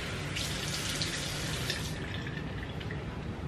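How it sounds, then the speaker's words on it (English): Quiet water runs and splashes at a bathroom sink during a skincare routine, a steady soft hiss with faint drips and no talking. "I might splash a little bit of water and then go into my skincare"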